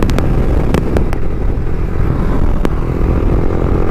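A 125 cc motorcycle ridden hard at full power, its engine roaring loud and close through the whole stretch with a few sharp clicks, no talk.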